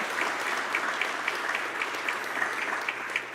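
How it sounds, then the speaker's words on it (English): A crowd at a Black History Month event applauds steadily, a broad wash of clapping with faint rhythmic accents running throughout. "Let's give all of the people we lift up today a round of applause."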